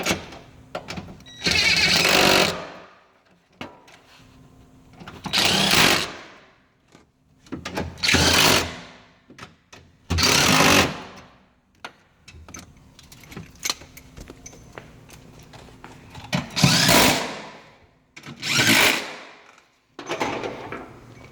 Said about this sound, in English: Go and zap them down, wrench them down tight.